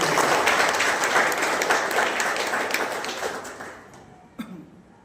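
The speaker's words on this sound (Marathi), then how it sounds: "त्याबद्दल या दोन्ही योद्ध्यांसाठी एक जोरदार टाळ्या" Loud applause from a temple gathering honouring two warriors, dense clapping that fills the first few seconds and then thins out and fades, with a last stray clap near the end.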